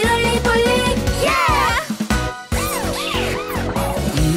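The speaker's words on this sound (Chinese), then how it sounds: "警车出动！" A cartoon police car siren in an animated children's car song, a wailing rising-and-falling tone repeated in sweeps over bouncy background music, fairly loud and upfront with no speech.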